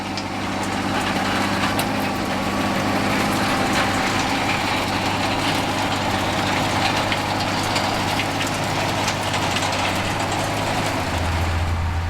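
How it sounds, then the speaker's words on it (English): A 260-horsepower John Deere 8400 tractor pulls an 8-metre Lely power harrow across a field, a steady deep engine drone with a constant low hum and faint mechanical rattle throughout. "John Deere 8400 in the field for the first time, working with the 8-metre Lely power harrow"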